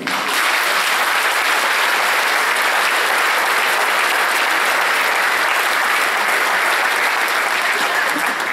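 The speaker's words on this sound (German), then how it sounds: "dann können Sie euch mal applaudieren" An audience at a wind orchestra's spring concert applauds continuously, a dense, loud, even wash of clapping hands sustained for the whole stretch with no pauses.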